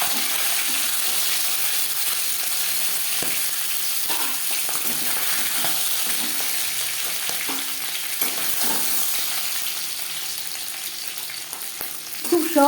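Fish heads frying in a pan of hot oil, a steady close sizzle with occasional stirring scrapes, with no talking.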